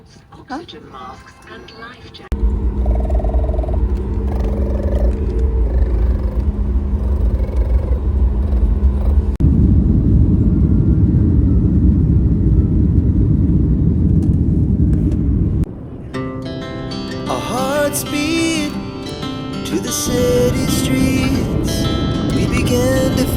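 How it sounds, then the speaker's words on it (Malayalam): A steady, loud engine rumble fills an aircraft cabin during departure, with a shift in its tone partway through, and voices talking over it. "ഫ്ലൈറ്റ് വിടുകയാണ്"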